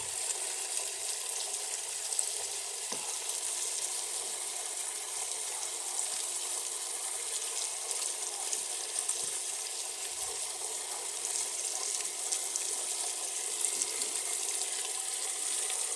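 A Brastemp electronic washing machine fills with water, a steady rushing hiss of inflow that stays even and continuous throughout, close by and moderately loud, with a few faint knocks underneath and no talking.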